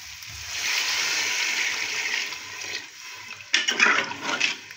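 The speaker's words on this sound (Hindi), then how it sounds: "अब हम इसमें ऐड करेंगे पानी।" Water pours into a pot of beef being fried for a pumpkin gosht curry, a steady hissing rush and splash that briefly quiets, then sizzles and bubbles again.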